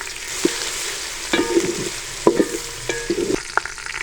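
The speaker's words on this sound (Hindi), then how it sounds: "अब इस टाइम पे आके मैं इसमें लहसुन अदरक का पेस्ट शामिल कर देंगे।" Browned onion frying with garlic-ginger paste for a dhaba-style potato, pea and carrot curry gives a continuous sizzle, broken by several sharp clinks and scrapes of stirring against the pan.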